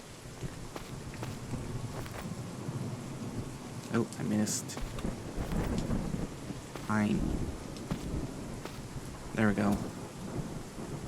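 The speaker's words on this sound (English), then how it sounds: "Now it's raining." Rain falls steadily in the video game Craftopia with rumbles of thunder rolling underneath, while someone talks briefly over the continuous downpour and some footstep-like sounds.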